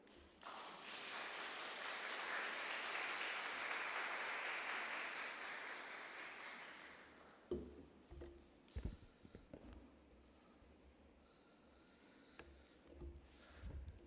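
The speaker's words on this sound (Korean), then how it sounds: "다들 사랑의 박수로 많은 환영 부탁드리겠습니다" A church congregation claps steadily for several seconds during a Sunday service as a pastor comes up, then the applause fades into quiet room noise with scattered taps and shuffles.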